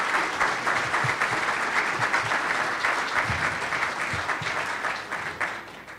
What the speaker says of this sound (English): If we could just provide one more round of applause for our board chair for his keynote